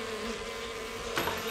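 Cartoon bees hum as a steady, faint, continuous drone, with a brief brighter swell near the end and no talking.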